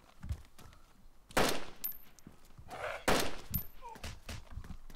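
Gunfire in a shooting video game, with two loud bursts of shots standing out over softer scattered shots and faint movement sounds.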